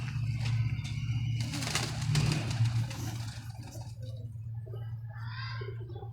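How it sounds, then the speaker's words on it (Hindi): Domestic pigeons at home coo in low, throaty, repeated rolls nearby, with faint background noise and no speech. "बड़ा खूब शौक़ करवाने वाले कबूतर है ये हमारे अपने घर के"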